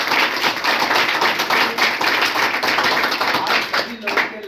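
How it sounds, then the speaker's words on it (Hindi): An audience claps loudly and steadily in a hall, a dense wave of applause for Nagendra sir that holds throughout, with no voice standing out above it. "तो मैं चाहूंगा कि उनके लिए जोरदार ताली होना चाहिए।"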